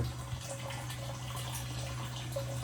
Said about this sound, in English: there's the stream of water going there